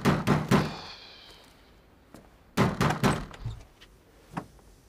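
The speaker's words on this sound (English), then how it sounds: "Someone banging on the door" Heavy fists banging on a door, three loud bursts of rapid thuds separated by short pauses, close and sharp, with a faint single knock at the end and no voices.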